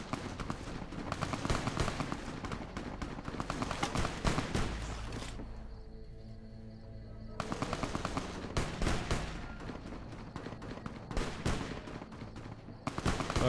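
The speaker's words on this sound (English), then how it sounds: "It will most likely be a Legion patrol shooting at someone." Gunfire from a Legion patrol in Fallout: New Vegas, dense bursts of rapid shots with a brief lull midway before the firing resumes, fairly close and continuous.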